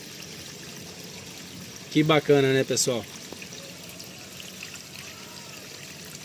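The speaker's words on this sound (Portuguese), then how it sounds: "Já tá enchendo novamente" Steady pouring and trickling of water filling a homemade biological filter bed for fish farming, running continuously at moderate level while someone speaks briefly partway through.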